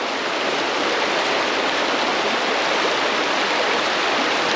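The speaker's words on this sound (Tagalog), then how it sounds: "Kaya ganito po ngayon yung ilog mga ka-adventure." A river rushes steadily past, its broad unbroken wash of flowing water close and loud for the whole stretch, with no voices over it.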